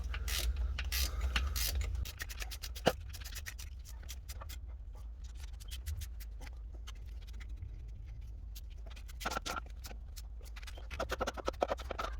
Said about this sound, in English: now we're gonna go ahead and start bolting away